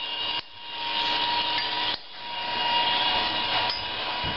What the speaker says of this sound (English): Small geared motor. The belt is just a piece of bicycle tube.